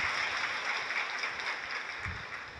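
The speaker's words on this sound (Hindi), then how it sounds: "ज़ोर से तालियां बजनी चाहिए।" An audience at a morning session of a spiritual gathering applauds, a steady hiss of many hands clapping together at a moderate distance, tapering slightly toward the end.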